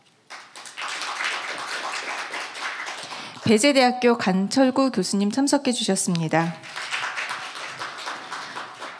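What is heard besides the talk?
audience applause welcoming panel professors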